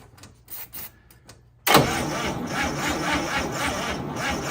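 A 1955 Chevy engine, parked for decades, cranks on a weak battery: a few short, quiet bursts come first, then a loud, steady churning begins and carries on to the end.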